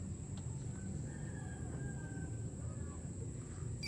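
A rooster crows faintly in the distance with soft chicken clucks, thin and far off over a steady low background hum, outdoors near a flooded house; no one speaks.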